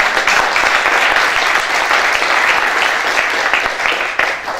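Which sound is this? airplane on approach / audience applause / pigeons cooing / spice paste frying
audience applause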